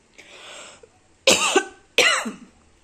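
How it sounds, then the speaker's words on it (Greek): Three dry coughs from a parched throat, one softer and hoarse followed by two loud, sharp bursts close to the microphone, with brief silence between them. "Και το βήχα μου."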